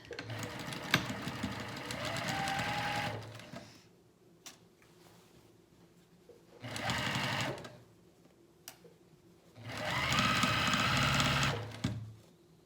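A sewing machine stitches pajama pant seams in three loud, rapid bursts of running, each several seconds long, separated by quiet pauses with a few clicks as the fabric is adjusted.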